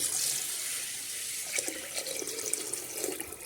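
Water runs and splashes steadily into a pressure cooker holding mung beans, a close, continuous pouring sound with no talking.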